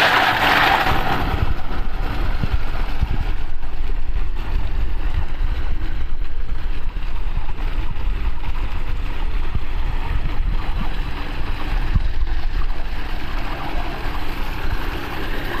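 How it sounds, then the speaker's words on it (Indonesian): A water pump on a test run before shipping sends a strong flow through a 2-inch pipe, giving a loud, steady broadband rush and roar with a low engine-like drone underneath, continuous for the whole stretch. "Ini keluar airnya kencang banget. Ini dengan pipanya 2 in."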